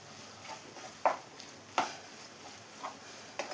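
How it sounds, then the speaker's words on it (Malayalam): Chicken thoran with grated coconut stirred in a pan, a quiet low hiss broken by a few sharp spatula scrapes spaced about a second apart. "എല്ലാം കൂടെ നന്നായി തന്നെ ഒന്ന് മിക്സ് ചെയ്ത് കൊടുക്കാം."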